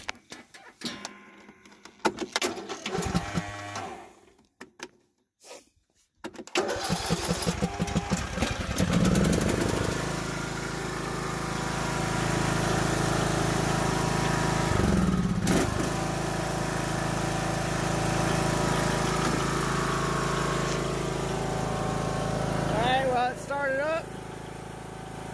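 A car engine is started with a TACKLIFE T6 600A 12V jump starter, cranking briefly after some handling noises and then settling into a steady, close idle that runs on. Someone talks at times in between.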